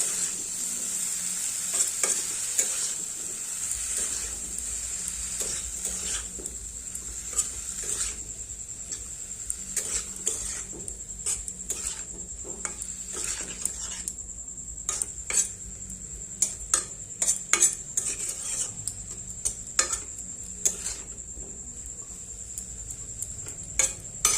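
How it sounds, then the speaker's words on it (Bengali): Pumpkin leaves being sautéed with chilli powder and a little water, a soft steady sizzle under repeated scraping and clinking of a spoon against the pan, the stirring taps growing sharper and more frequent toward the end. "ভালো করে এবার কষিয়ে নেব।"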